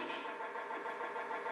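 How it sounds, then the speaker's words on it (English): A steady, continuous mechanical drone from an elevator in Silent Hill 1, rumbling like an idling car engine; constant level and close throughout, with no talk over it. "Why is the elevator sound like a car engine?"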